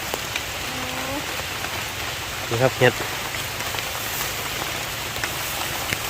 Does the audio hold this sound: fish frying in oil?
no